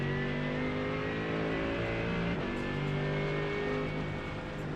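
A race car lapping in the iRacing sim, its engine a steady loud drone with sustained revs and a brief shift dip midway, holding close and continuous throughout.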